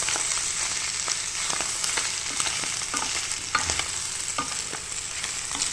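Garlic sautés in butter in a pan for a beef papaitan, a constant near sizzle with scattered light scrapes and taps of a stirring utensil, nobody speaking.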